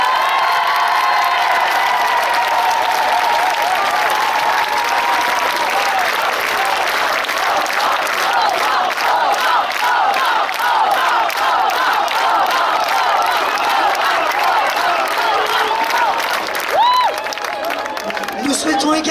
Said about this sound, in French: qu'on fasse une nouvelle salve d'applaudissements pour Aurore